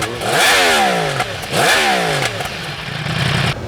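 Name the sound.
Yamaha YZF R1M crossplane four-cylinder motorcycle engine starting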